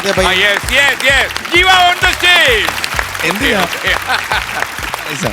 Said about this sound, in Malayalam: നല്ല ഒരു കൈയടി കൊടുത്ത അപ്ലാസ്